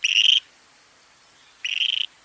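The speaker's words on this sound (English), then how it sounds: "And here's the call of the Clark's grebe." Clark's grebe calls twice, each a single shrill, rising, rasping whistle about a third of a second long, the two separated by more than a second of quiet, with no voices.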